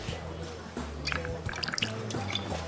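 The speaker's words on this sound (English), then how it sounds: "That's a standard double pour." A double measure of vodka is poured into a glass at a bar with quick, liquid gurgles and drips, faint and close, over a low background hum.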